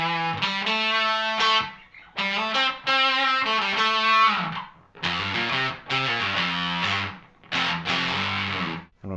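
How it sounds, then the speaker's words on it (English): Electric guitar through a Frommel fuzz pedal, heavily distorted, playing sustained chords in several loud bursts with short pauses between, thick and buzzy tone. "I'm using a Frommel fuzz today, which is a bit of a weird fuzz pedal."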